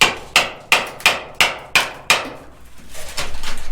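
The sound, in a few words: chisel hammered into quartz rock while gold mining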